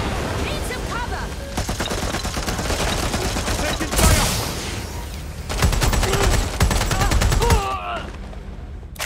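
Gunfire in Watch Dogs: Legion: dense, rapid machine-gun bursts and shots roll on almost without pause. Two loud stretches of fire stand out, and voices call out over the shooting.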